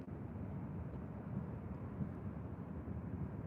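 A WestJet Boeing 737-800 arrives at LAX as a steady, low jet rumble that stays distant and faint throughout, with no talking.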